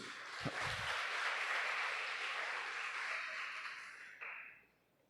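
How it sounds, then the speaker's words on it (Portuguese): A church congregation claps together in a sustained wash of applause that holds steady for several seconds, then tapers off and fades out. "Você pode dar um aplauso para Jesus?"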